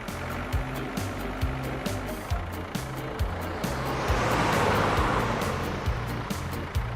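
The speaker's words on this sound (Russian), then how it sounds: "Ой, кажется, щенок на джипе едет." Cartoon jeep driving along a road in an animated children's story, a rumbling vehicle pass under a bouncy repeating musical rhythm, swelling briefly in the middle.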